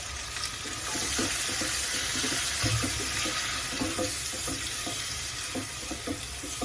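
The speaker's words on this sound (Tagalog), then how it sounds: "Lagay na natin ang ating tomato at ang ating green chili." Tomato and green chili hit a pan of cooked garlic, giving a steady close sizzle and crackle with soft stirring scrapes, alone without voices.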